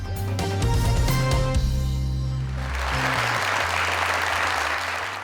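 Studio audience applause on a talk show, a sustained burst of clapping after a musical sting fades out, steady and fairly loud throughout.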